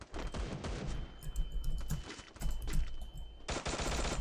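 Bursts of rapid automatic gunfire in the Free Fire video game, in close, loud volleys with brief gaps between them, with clicks of keys or taps mixed in.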